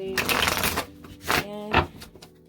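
Tarot cards shuffled by hand in quick riffling bursts, three or four brushy flurries at close range with short pauses between, alone without talk.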